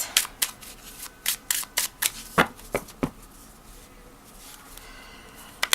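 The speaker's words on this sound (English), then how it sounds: "You can shuffle it like this." A deck of Arthur Rackham oracle cards is shuffled by hand, giving a run of quick crisp riffles and flicks, close and fairly quiet, then fading to near silence.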